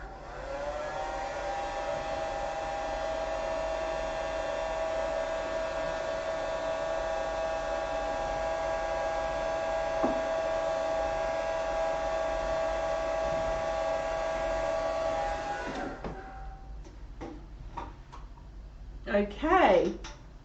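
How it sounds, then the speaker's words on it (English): A hairdryer drying a watercolour rose painting whirs steadily and loudly for about fifteen seconds, then clicks off, and a voice follows. "I'm just going to grab the hairdryer, guys, because I really want to do this petal."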